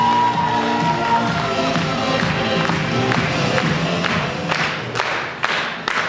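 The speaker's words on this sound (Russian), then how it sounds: "Ваши аплодисменты." Student audience at a KVN comedy contest between student work brigades breaks into loud applause and cheering, a dense continuous crowd roar with music-like tones underneath, sustained for several seconds.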